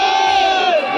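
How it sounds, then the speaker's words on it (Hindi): A dense crowd at a hill-village gathering makes a loud, continuous wash of massed voices, with a sustained tone gliding through it, close and unbroken throughout. "यहाँ भीड़ आ रखी है"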